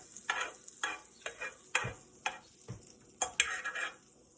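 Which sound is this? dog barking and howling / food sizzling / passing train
food sizzling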